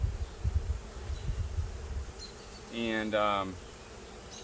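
A honeybee colony that began as a swarm hums during a hive inspection, a steady close buzz under handling noise, with one louder, higher whine of a bee passing near and a single short spoken word.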